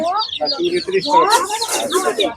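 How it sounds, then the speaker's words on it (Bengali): Chicken chicks at a poultry market near Hemayetpur cheep in a dense, close chorus of high, rapid peeps that overlap continuously, with a person talking among them. "বন্ধুরা এখানে মুরগির বাচ্চা আমরা দেখতে পাচ্ছি"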